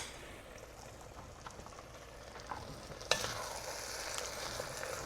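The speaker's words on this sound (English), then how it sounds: "See if we have any more scrapings on the bottom. Let's give it a nice stir." French onion soup stirred in a pot, a spoon scraping the bottom amid steady low sizzling and simmering, with a sharper scrape partway through and the bubbling growing a little busier afterward.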